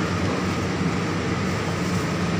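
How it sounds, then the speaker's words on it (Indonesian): The Sancaka train stands at a station in Surabaya, a loud continuous low rumble and hum of the train close by, steady throughout with no voices. "Kita harus melewati kereta Sancaka untuk menyeberang"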